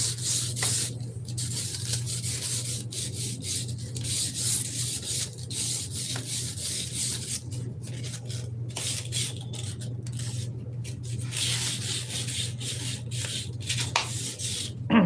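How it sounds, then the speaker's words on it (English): 180-grit sandpaper scuffing a carbon rod in rapid, rhythmic back-and-forth rasping strokes, close and fairly loud over a steady low hum. "What I'm doing with this carbon rod is scuffing it with 180."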